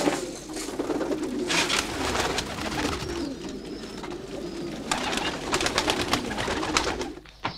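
Pigeons kept by a winegrower coo continuously at close range in a loft, their soft rolling calls layered with fluttering and rustling, and no voices.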